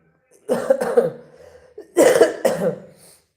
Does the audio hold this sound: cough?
yes